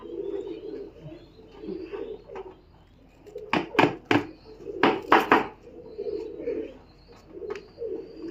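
Pigeons, young and adult birds together in a loft, giving soft, low, repeated cooing throughout, close and moderately quiet, broken midway by a burst of sharp clattering knocks.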